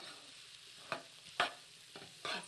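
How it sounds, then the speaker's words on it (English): Vegetables stirred in a pan with onion and garlic for veggie fried rice give a soft steady sizzle, broken by four distinct scraping stirs, close and fairly quiet, with no talking. "we're going to add that in the pan here and kind of mix that up with our onion and garlic"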